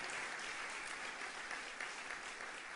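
Steady, dense applause from a political audience gathered for a Rubalcaba speech, filling the whole stretch evenly with no voices breaking through.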